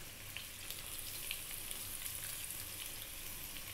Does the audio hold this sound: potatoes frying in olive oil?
yes